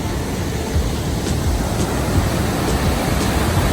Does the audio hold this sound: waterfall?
yes